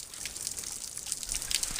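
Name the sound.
mountain stream water flowing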